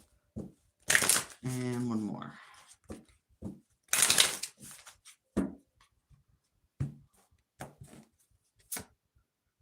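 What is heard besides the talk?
shuffling a deck of tarot cards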